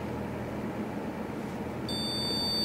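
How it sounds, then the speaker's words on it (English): A piezo speaker driven by an Arduino starts a thin, steady high-pitched sine tone over a low background hum, entering near the end and holding evenly. "you can hear the speaker plays the tone,"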